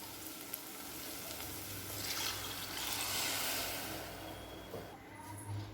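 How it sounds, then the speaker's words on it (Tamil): A cup of water poured into a pan of egg curry (kulambu) with fried chilli-powder masala, setting off a steady, close sizzle and bubbling that swells midway and eases toward the end, with no voices. "இப்போ இது கூடவே 1 கப் தண்ணி சேர்த்துக்கலாம்."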